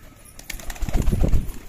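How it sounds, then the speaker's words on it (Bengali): A male pigeon flapping its wings as it takes off from a loft in the morning, a quick run of soft rhythmic wingbeats swelling louder toward the end. "নর পায়রা বন্ধুরা এটা।"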